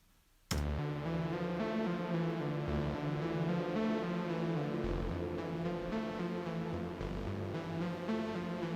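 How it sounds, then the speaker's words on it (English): A synth arpeggio from a Reaktor synth starts abruptly and repeats a fast rippling note pattern, bright and layered, playing steadily with no voices. "and the main ARP, which sounds a little like this,"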